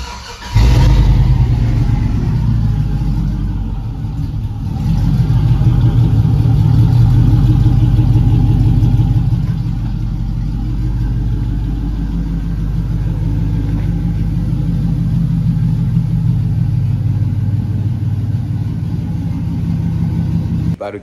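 An LS-swapped OBS truck with shorty headers and straight pipe open headers rumbles loud and close, with a deep, heavy exhaust note that swells through revs and settles back across the stretch.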